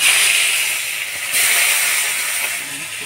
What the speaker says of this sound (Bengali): কড়াই গরম হয়ে গেছে, দিয়ে দিব তেল।